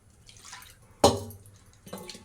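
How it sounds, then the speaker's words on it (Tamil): Tamarind water is poured into a pot of rasam, giving one sharp close splash followed by a brief trickle, preceded and followed by soft handling sounds. "இப்போ இந்த புளி கரைச்சி வச்சேன் பார்த்திங்களா, இதை ஊற்றிடலாம்"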